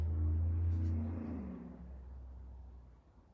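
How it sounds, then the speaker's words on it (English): A truck roars past outside, a loud low rumble that peaks early and then fades steadily as it moves away. "Do you hear that truck roar by?"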